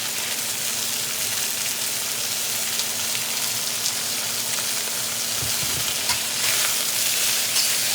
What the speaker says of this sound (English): We're getting good sear.